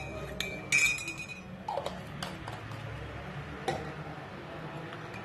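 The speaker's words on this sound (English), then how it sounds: "And then stir." Spoon stirring an immunity-boosting drink with a teaspoon of coconut oil in a glass, giving scattered light clinks and ticks against the glass over a soft background.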